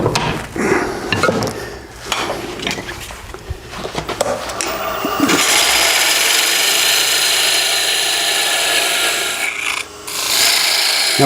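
A parting tool cuts into a spinning wooden box on a lathe, giving a rough, rasping scrape with bursts of chatter at first, then a steady, loud hissing cut close by, with no talking.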